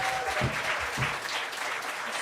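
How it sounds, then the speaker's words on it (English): A live audience at a summer Celtic fiddle concert with a youth fiddle group claps in a steady moderate wash, with a few louder hand strikes early on. "let's give a huge round of applause for Clíodhna here."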